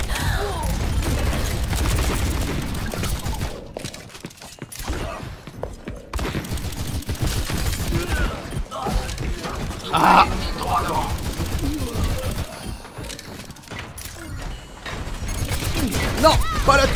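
Rapid bursts of automatic turret fire mix with explosions and chaotic combat effects in an Overwatch match, dense and loud almost without pause, while an excited voice talks over the action.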